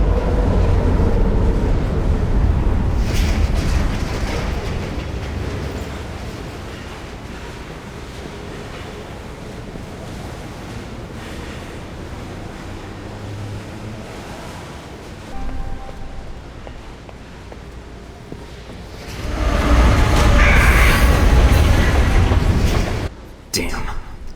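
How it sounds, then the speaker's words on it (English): A train roars past in the video game Alpha Protocol, near tracks and tunnels leading to a station. A loud, broad rushing rumble swells, eases off, then surges close again near the end. "Trains are pretty loud here."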